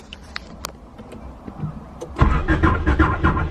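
Honda wagon engine cranking and failing to start after an OBD1 conversion: a few clicks and faint mechanical noises, then a loud, rough churning that surges and dips without catching, heard close.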